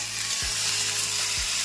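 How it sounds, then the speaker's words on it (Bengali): Potatoes fry in a pan with a continuous close-up sizzle and crackle, and two low thumps fall about a second apart. "আলু ভাজা বসিয়ে দিলাম"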